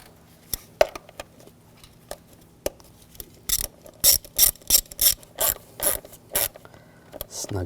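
Ratchet wrench clicking in bursts while tightening a hose clamp on a 2004-2009 Audi S4 4.2L V8 engine, with a few scattered clicks at first and then a steady run of rhythmic ratcheting strokes, close up and crisp.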